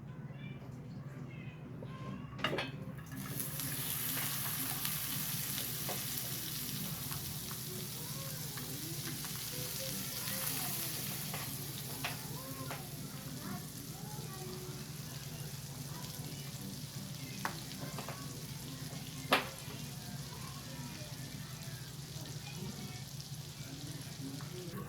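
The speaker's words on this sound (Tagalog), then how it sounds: "igigisa na natin siya sa may butter para maluto yung sibuyas at sili" Onion and chili sautéing in butter for chicken sisig give a steady, loud sizzle with soft bubbling crackle throughout, broken by a few sharp clicks of a utensil against the pan.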